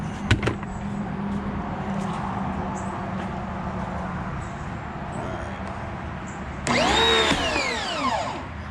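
A DGIVOVO 5000psi pressure washer with a foam cannon kicks on near the end with a loud, steady electric whine and hiss of spray, after several seconds of quiet outdoor background with a couple of clicks.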